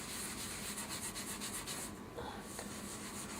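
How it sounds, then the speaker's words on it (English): A microfiber cloth scrubs baking soda into a wooden cutting board, giving a steady, close rubbing hiss with no talk and a brief pause near the end. "now we're going to use our microfiber cloth, and we're just going to scrub this baking soda in real good"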